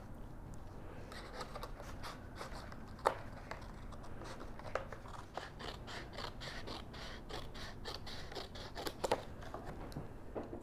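Scissors snip through excess chipboard in a run of repeated crisp cuts, close and fairly quiet, with light paper rustles between them.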